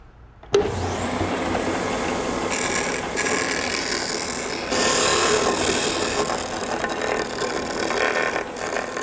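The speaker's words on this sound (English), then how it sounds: "I'm just going to get in here with the disc sander, take off that tip, get on these edges" A disc sander switches on abruptly and runs steadily, smoothing the edges of a cut-out wooden board. The loud, continuous whirring grind shifts slightly in pitch and pressure as the wood is worked, with no voices.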